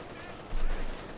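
StuG assault gun firing in Company of Heroes 2, a single heavy low boom over battle noise with a commentator talking.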